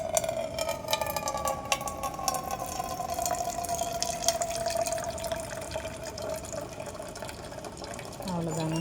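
Hot water pouring steadily from a touch-button dispenser into a cup, about 120 ml, a continuous close trickle with a gently shifting pitch as the cup fills, with a voice talking over it.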